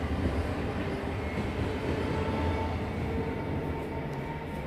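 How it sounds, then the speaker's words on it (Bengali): A train rumbles past at moderate distance, a steady low roar of wheels and cars lasting throughout, with no one speaking. "ওই যে ট্রেন যাচ্ছে"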